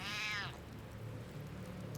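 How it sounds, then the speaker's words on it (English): A cat in Baldur's Gate 3 gives one clear, close, drawn-out meow that fades after about half a second, leaving quiet low ambient game background. "Oh, it's a cat."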